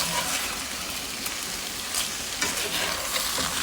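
Chicken pieces sizzle steadily in a hot pan with bok choy cooking nearby, a continuous frying hiss broken by soft scraping and stirring noises as pieces get turned over, with no talking.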